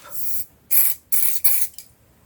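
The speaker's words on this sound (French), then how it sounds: "Pour effacer, j'utilise un Kleenex et un spray hydroalcoolique." Hydroalcoholic hand sanitizer spray pumped onto a tissue: one hissing spray burst, then three quick close bursts in a row and a faint short puff, each sharp and airy with near silence between.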